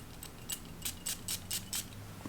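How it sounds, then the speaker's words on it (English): A series of short hissing spritzes from a perfume spray bottle, about six in quick succession, fairly close and crisp against a quiet background. "I'm going to go ahead and take a couple of sprays"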